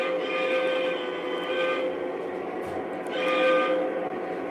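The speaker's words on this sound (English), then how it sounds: "Real Toy Train's got a Hancock air whistle." A Hancock air whistle on a toy train sounds two steady, moderately loud blasts separated by a short gap, over the continuous rumble of the running train.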